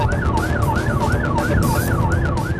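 A police siren wails in a steady rising-and-falling pattern, loud and close, over the rumble of a fast-moving car in a high-speed chase on a dual carriageway.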